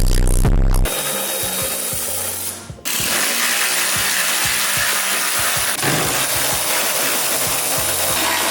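A ratchet clicks rapidly in short bursts while bolts are removed from Chevy truck fenders, close and loud with pauses between runs of clicking.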